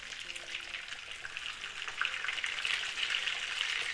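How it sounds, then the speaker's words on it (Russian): Pounded pork tenderloin chops fry in a pan, a dense, even sizzle that swells slightly louder over a few seconds, with no talk. "Я думаю, отбивные уже обжарились на одной стороне. Теперь их повернем."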